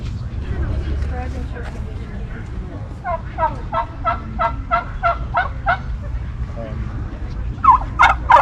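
A turkey gobbles repeatedly in a rapid, rhythmic series of bursts, with further calls near the end, over a steady low rumble and a voice talking about poultry.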